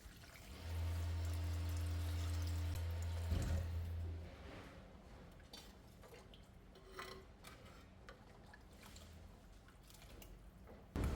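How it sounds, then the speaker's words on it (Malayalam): A low hum fades, then two cups of water are poured into a cooking pan, a soft, steady splashing and trickling that stays faint and close. "ഇനി ഇതിലേക്ക് രണ്ട് കപ്പ് വെള്ളം ഒഴിക്കാം"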